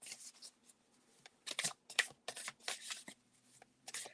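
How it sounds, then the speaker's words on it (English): A deck of tarot-style reading cards being shuffled by hand, with several quick riffling bursts and soft pauses between them, close and fairly quiet with no talking. "Let me shuffle this one."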